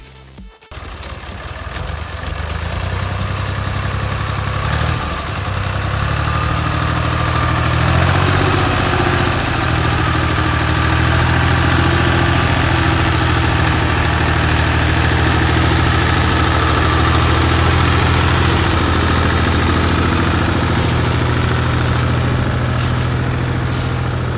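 A heavy tractor engine idles steadily and loudly throughout, a low continuous rumble with no talking.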